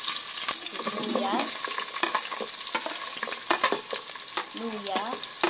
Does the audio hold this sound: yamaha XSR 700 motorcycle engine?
no